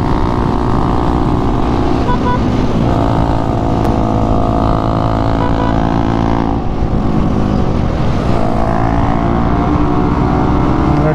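Bajaj NS200 motorcycle racing a KTM Duke, a loud, steady engine roar at sustained high revs throughout, close to the microphone with wind noise and slight pitch shifts as the throttle changes.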